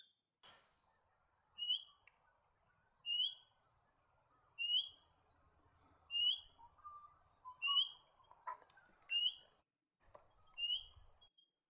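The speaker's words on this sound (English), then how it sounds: "The Australian king parrot is found in wet eucalypt forests, farmland and town gardens." Australian king parrot calls in wet eucalypt forest or garden: a series of thin, high, piping notes repeated every second or so, fairly faint against a quiet background with a soft low rumble.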